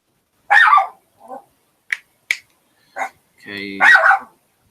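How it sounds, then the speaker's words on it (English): A dog barks a few sharp times, close by, with short yips and clicks in between. A voice speaks briefly among the barks. "my dogs are barking"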